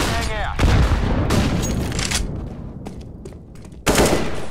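Flashbang grenade going off in Counter-Strike: Global Offensive on the Dust 2 map, two loud, sharp broadband bangs a few seconds apart with a noisy gunfire-like wash between them.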